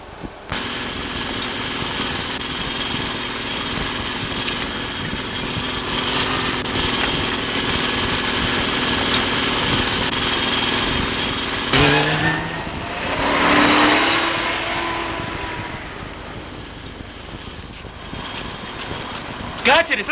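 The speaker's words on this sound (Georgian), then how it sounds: "მანქანა ჩაგვივარდა აგერ ტალახში, ვერაფრით ვერ ამოვივა" A car engine strains and revs continuously while the vehicle is stuck in mud, with a steady loud drone, a brief tire squeal or skid near the middle, and a surge of revving shortly after.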